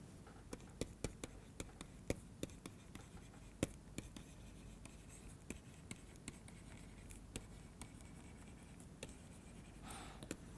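A lecturer writes an equation on a board, with faint, close taps and scratchy strokes coming in irregular bursts against a quiet room.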